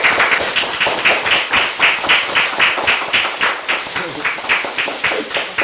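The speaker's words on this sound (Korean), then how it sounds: "박수 한 번 더 부탁드립니다." Steady audience applause at a Democratic Party talent recruitment ceremony in Korea, a dense rhythmic clapping from many hands that fills the room continuously without a break.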